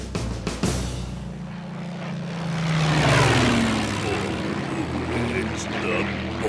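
A droning propeller plane engine from the Donkey Kong Country game rumbles steadily, swelling slightly as it passes, beneath a dense layer of mixed game sound.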